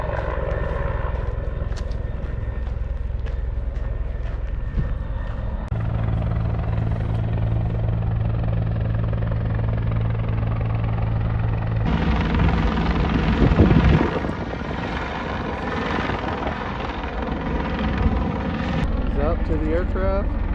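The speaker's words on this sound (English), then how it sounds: "possibly with the helicopter." A rescue helicopter working over rugged ground on a mountain rescue, its rotor and engine a loud, steady roar close by throughout, with voices talking beneath it.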